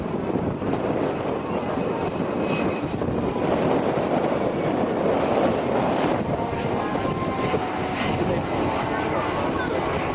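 Navy jet of VFA 34 landing at NAS Oceana airshow, a loud, steady roaring engine wash with broad wind-like noise throughout, a commentator's voice faintly mixed in.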